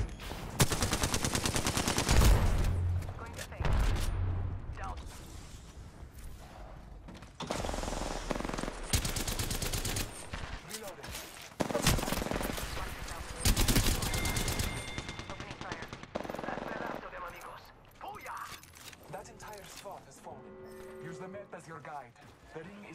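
Loud, close automatic weapon fire in the battle royale shooter Apex Legends, coming in repeated rattling bursts with mechanical clicks between them and a voice speaking at times.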